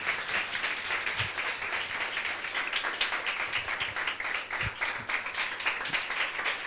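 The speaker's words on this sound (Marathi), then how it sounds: "टाळ्या वाजवूयात, प्रभूला धन्यवाद देऊयात" A church congregation applauds steadily in praise during a Sunday worship service. The dense, even clapping sounds fairly faint and distant, with no clear talking over it.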